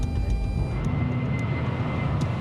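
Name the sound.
airplane climbing after takeoff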